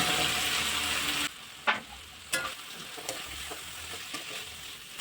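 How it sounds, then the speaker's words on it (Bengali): Fried drumsticks, potatoes and lentil dumplings tip into oily spice paste with a loud burst of sizzling, which settles into a quieter crackle punctuated by several scraping stirs against the pan. "এবার আমি ভেজে রাখা ডাঁটা, আলু, বড়ি গুলো দিয়ে দেব।"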